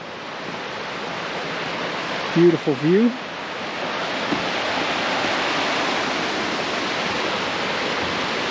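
A river in open forest country rushes steadily as a broad, constant roar of flowing water, close and loud throughout, with a voice briefly speaking over it.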